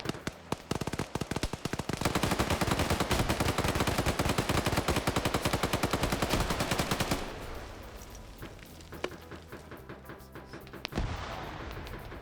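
Sustained rapid automatic fire from a 7.62×54 rifle in a close-quarters multiplayer shooter match, loud dense bursts for about seven seconds, then sparser scattered shots and distant fire trailing off.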